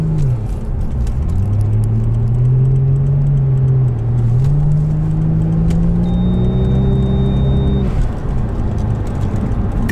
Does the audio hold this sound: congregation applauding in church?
no